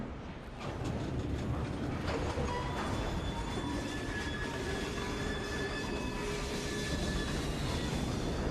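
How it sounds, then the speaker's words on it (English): A train in the video game Assassin's Creed Syndicate runs at a steady pace, giving a continuous rumble of rail noise with metallic clatter and faint wheel squeals throughout. "We fixed up the train for you."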